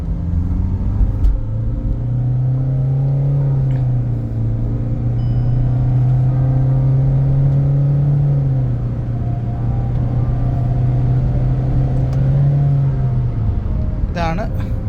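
Kia Sonet diesel car accelerating hard from inside the cabin with AC and fan off: a loud, steady engine drone that rises in pitch, holds, then eases near the end.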